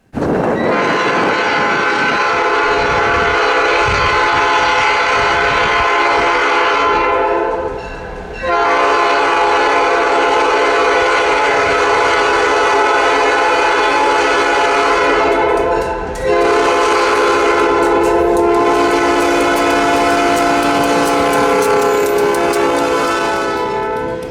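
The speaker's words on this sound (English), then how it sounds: "that meant it could blow its horn, and the horn on this thing is amazing" A locomotive horn at the Hoosier Valley Railroad Museum blares loud and close in long sustained blasts, broken by two brief pauses, with faint rail rumble underneath.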